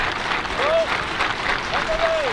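Baseball crowd applauding during the top of the 8th inning at a Yakima Valley Pippins vs Victoria HarbourCats game: a steady wash of clapping and crowd noise with a voice carrying over it.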